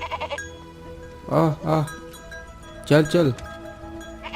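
Sheep and goats grazing on a hillside tended by a shepherd, bleating in two close, loud wavering pairs of calls while someone speaks briefly to urge them on.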